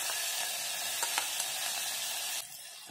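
Chopped onion, garlic and green chilli frying in desi ghee with cumin and asafoetida, a steady close hissing sizzle with a few small pops, dropping quieter near the end.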